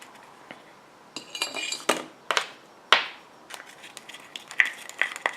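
Cosmetic eye-contour cream ingredients, an oil phase with caffeine and Nature Leaf in water, being mixed in a container, heard as a series of sharp clinks and taps of a utensil against the vessel, irregular and fairly close.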